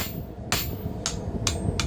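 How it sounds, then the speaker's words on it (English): Four sharp hammer blows strike narrow steel during blacksmith forging for slitting and drifting tool work, spaced roughly half a second apart, ringing clearly over a steady background hum. "now you can add a little mustard to your hammer blows"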